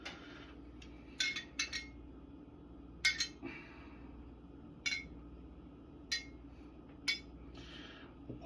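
A metal spoon clinks against a glass while fishing lemon seeds out of fresh-squeezed lemonade, with about eight sharp, light taps and scrapes spaced irregularly over a quiet, steady background hum.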